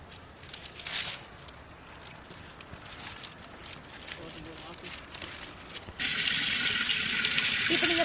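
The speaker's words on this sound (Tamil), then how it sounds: "இப்போ நாங்கள் தண்ணி வந்து ஊற்றிக்கிட்டு இருக்கோம்" Water is poured onto coconut coir held in a bag, at first a faint trickle and soft splashes, then a loud steady gush in the final seconds.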